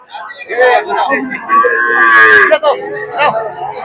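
A cow moos loudly and close by in a long drawn-out call at a busy cattle market, with a shorter low of another animal following.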